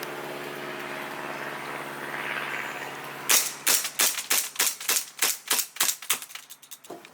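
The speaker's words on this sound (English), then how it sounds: "I'm going to be doing a shooting test with all of the guns I just unboxed" Airsoft gas BB pistols, including small 1911-style guns, fire during a shooting test. After a quiet hissy stretch, a rapid string of about a dozen sharp, close pops follows, slowing slightly toward the end.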